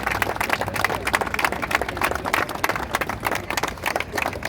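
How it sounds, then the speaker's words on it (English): A crowd applauds for NYC Mayor Eric Adams at an outdoor Father's Day walk gathering, sustained dense clapping with a few cheers mixed in, fairly loud and continuous throughout. "Let's clap it up for our mayor, y'all."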